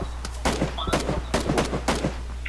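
Gunfire in the video game PUBG: several sharp shots crack out in quick irregular succession over a steady low hum, loud and close.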